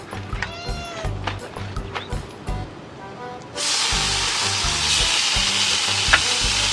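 Marinated arrachera steak dropped onto a small Weber Q grill heated to about 420 degrees, bursting into a loud, steady sizzle after a quieter stretch with a cat meowing and background sounds.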